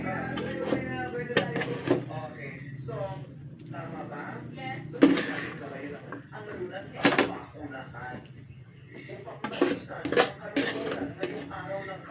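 Cooked sweet potatoes mashed in a pot for a pie, with irregular clanking and scraping of utensil against metal, moderately close, under ongoing conversational speech.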